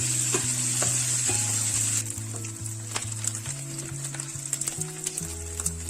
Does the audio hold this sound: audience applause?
no